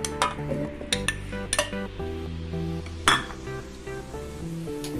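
Carrot pieces drop into a mixer jar with several sharp hard clinks and knocks at uneven intervals, close by, with resonant ringing between the impacts.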